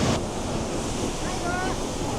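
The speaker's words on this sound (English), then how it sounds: "Haew Narok Waterfall, Khao Yai National Park, not to be missed." Haew Narok Waterfall in Khao Yai National Park during the rainy season, heard as a steady, loud roar of rushing water with wind buffeting the microphone throughout.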